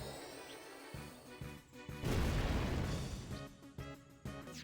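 A fire spell cast in the Final Fantasy X battle, a swelling whooshing burst that crashes and rumbles for a couple of seconds over sustained game music, with no one talking.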